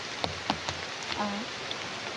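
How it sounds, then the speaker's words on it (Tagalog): Rain falling outdoors: a steady hiss of rainfall with a few scattered, distinct drops pattering nearby, at a moderate, even level throughout. "Kasi sa ngayon po, maulan po ngayon."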